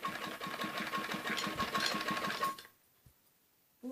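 A sewing machine stitches piping along the edge of a kameez back neckline with a fast, even mechanical chatter up close for about two and a half seconds, then stops abruptly into near silence.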